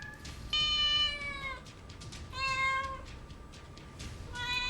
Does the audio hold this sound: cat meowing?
yes